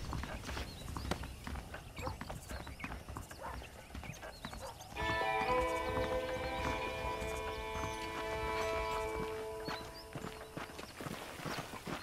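Horse hooves clip-clop at a walking pace in the Red Dead Redemption western video game, with a sustained tonal swell of game music entering midway over the steady steps.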